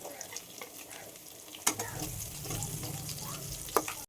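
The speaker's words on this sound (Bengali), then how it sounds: "এখন আমি ঝালের জন্য কোচানো লঙ্কা দিয়ে দেবো" Chopped chilli hits a pan of well-fried onion while cooking an egg, potato and cauliflower curry; a sharp clatter is followed by a steady close sizzle, with another brief clink near the end.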